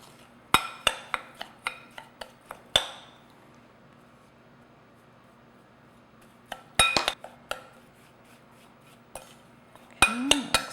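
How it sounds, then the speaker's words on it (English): Melted butter is stirred into crumbs in a bowl, with quick bursts of a utensil clinking and scraping against the bowl, separated by quiet pauses. "I'll stir that until all the crumbs are moistened"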